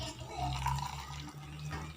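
Hot water is poured over a finely blended herbal mixture, a short soft splashing trickle of liquid with a faint low hum beneath, close and moderately quiet, with no talking.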